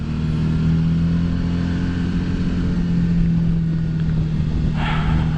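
A Suzuki V-Strom 650 motorcycle is ridden on an icy, frozen dirt road, its engine humming steadily with continuous wind rush and a brief brighter rattle near the end, with no talking.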